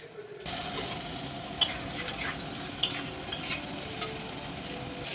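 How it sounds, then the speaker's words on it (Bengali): Potato pieces fry lightly in oil in a wok (kadai) in a home kitchen, with a steady sizzle and a few sharp clinks of a spatula stirring against the pan. "আলুটাকে আমি হালকা করে ভেজে নিচ্ছি।"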